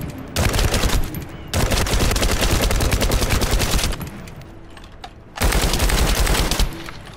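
Sustained automatic gunfire aimed at ice in The First Descendant's restricted zone, coming in three long, loud, rapid bursts separated by short pauses.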